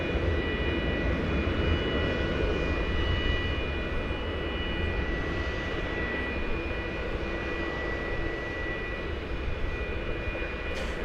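A Boeing 787 Dreamliner bound for Phoenix runs its engines at DFW Airport, producing a continuous, even low roar with faint steady whining tones, moderately distant and without talk.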